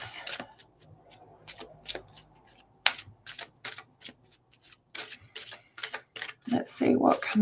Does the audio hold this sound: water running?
no